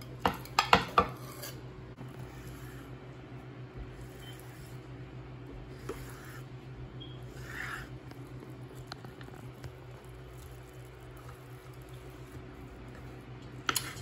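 A metal utensil clinks and scrapes against a pan while stirring BBQ chicken fried rice with chopped egg, with a quick cluster of clatters at the start and then quiet, faint shuffling.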